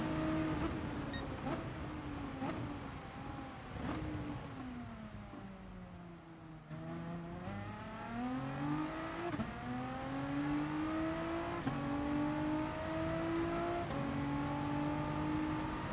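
Race cars, including a Peugeot, from the game Gran Turismo Sport: engines drone steadily with rising and falling pitch as gears shift, a continuous loud mechanical whine with no talking.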